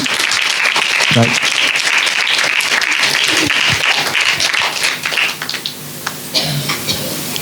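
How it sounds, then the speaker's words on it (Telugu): A church congregation clapping together on Mother's Day, a loud dense burst of applause that swells for several seconds and then thins out into scattered claps, with a voice speaking underneath. "సంఘం అంతా కూడి చిన్న చప్పట్లు కొడదాం వాళ్ళ కోసం."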